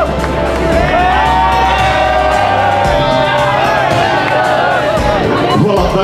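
A crowd cheers and whoops loudly at the Turbo Cross podium ceremony, a sustained roar of shouting voices with children's yells, continuous throughout.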